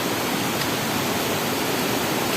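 Heavy floodwater rushes at a fish pond during a typhoon, a loud, steady, broadband roar with no pauses and no voices.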